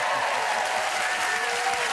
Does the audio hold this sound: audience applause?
yes